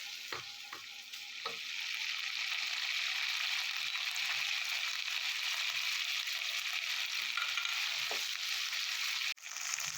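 Ginger and green chillies frying in a pan for a potato dum, a steady close sizzle holding throughout after a few early clinks, ending in a sharp knock, no talk.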